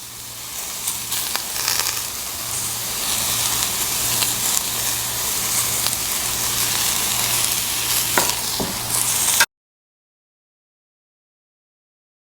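Vegetables with spices sizzle in a hot pan over an off-grid cooking setup, a steady, loud, close frying hiss that runs unbroken for about nine seconds with faint clinks before cutting off.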